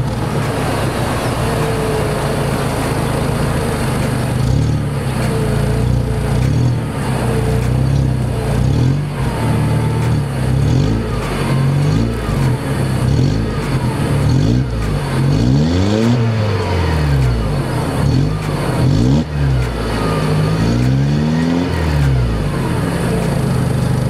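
A Mercedes-Benz SLK 200 Kompressor engine idles loudly up close, then revs several times in rising and falling sweeps, with no talking.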